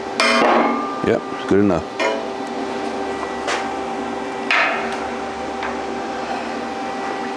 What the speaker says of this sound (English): I'll just get my hammer and tap it.